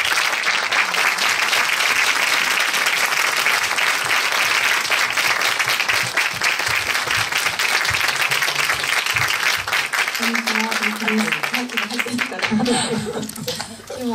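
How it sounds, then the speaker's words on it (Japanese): A crowd applauds loudly and continuously as a guest takes the stage at a film's completion preview screening. The clapping is dense and sustained for over ten seconds, and voices begin speaking near the end. "どうぞ皆さん拍手で。"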